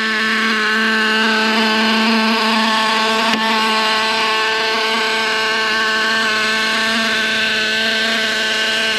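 Traxxas T-Maxx nitro RC truck engine idling steadily with a loud, continuous high-pitched buzz and strong harmonic whine, holding an even pace throughout with one brief click partway.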